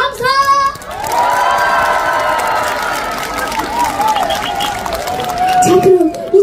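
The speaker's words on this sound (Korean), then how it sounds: "자, 좋으시다면 박수와 함성!" An audience at an outdoor concert in Oncheoncheon Citizens Park bursts into sustained cheering, shouting and clapping, a broad crowd roar lasting several seconds right after a short spoken line.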